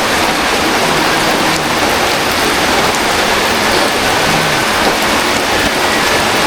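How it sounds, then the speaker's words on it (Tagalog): Heavy rain pours down outdoors on a slippery road, a dense, steady hiss of drops hitting surfaces that stays loud and unbroken throughout with no voices. "Lakas ng ulan."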